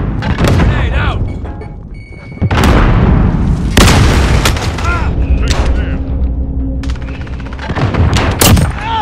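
In a video game firefight, heavy booms and bursts of gunfire hit loud and close in several waves, with voices calling out between the blasts.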